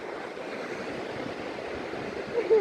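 Sea waves wash steadily onto a Konkan beach, a continuous mid-level surf roar with a slightly louder swell near the end and no talking.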